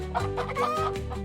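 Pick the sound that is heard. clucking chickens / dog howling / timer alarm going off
clucking chickens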